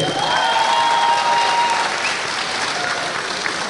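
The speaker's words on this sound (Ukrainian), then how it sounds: "Ваші оплески!" An audience applauds at a qualifying round of a national student beauty pageant, a loud, steady sheet of clapping that holds evenly and then eases slightly toward the end.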